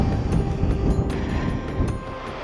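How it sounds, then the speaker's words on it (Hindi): Strong wind gusts across a high mountain trek in Uttarakhand, a loud continuous roar with bursts of microphone buffeting and no voices. "बहुत खतरनाक हवा चल रही है भाई"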